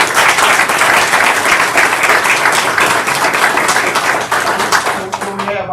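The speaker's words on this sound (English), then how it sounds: "Let's give our public works a round of applause." A council meeting audience breaks into loud, dense applause that continues strongly and then tapers off at the very end.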